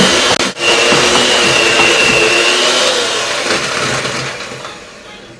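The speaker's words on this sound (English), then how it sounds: "So we're just going to turn this on and mix it really well until it's all mixed together and light and fluffy" Electric mixer whirring steadily as it beats Christmas cookie dough, a loud continuous motor drone after a brief start-up dip, easing slightly toward the end.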